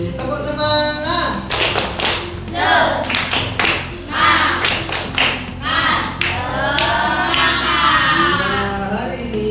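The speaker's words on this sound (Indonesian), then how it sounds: "Tepuk semangat." Classroom students perform a rhythmic spirit clap together, with bursts of patterned hand claps and taps in a loud, close sequence, mixed with children's voices and chanting.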